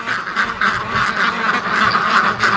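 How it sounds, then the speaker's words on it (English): Rouen ducks gathered at a gate quacking as a loud, busy flock, overlapping calls running continuously and close by, with no talking. "the ducks want out really bad"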